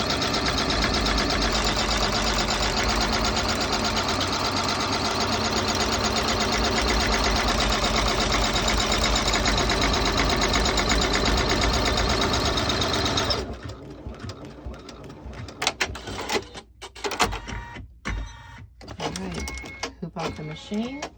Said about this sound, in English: back to the machine. Stitching the second to last step now.